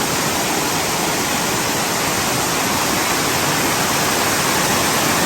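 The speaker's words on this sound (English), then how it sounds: "Waterfall has a very strong breath this morning." Crabtree Falls on the Blue Ridge Parkway roars in a constant, close, broadband rush of falling water with no break or voices.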